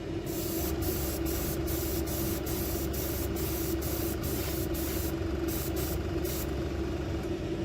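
Airbrush spraying a thin metallic coat of fabric paint, a steady hissing spray running continuously up close with a constant compressor hum beneath, interrupted by brief regular pulses, no talking.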